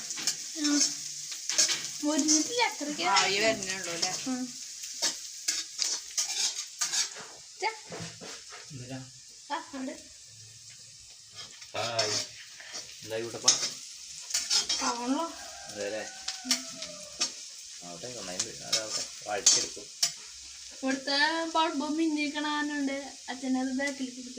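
Onions being stir-fried in a home kitchen pan for a Sunday meal, with a steady sizzle and repeated stirring scrapes running throughout, while someone talks over most of it.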